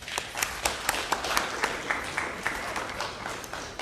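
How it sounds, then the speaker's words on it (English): An open-air theater audience at an evening history lecture applauds steadily, a continuous crowd of hands clapping at moderate distance with individual claps standing out, without speech over it. "a very, very warm round of applause for yourselves for sitting through tonight as well"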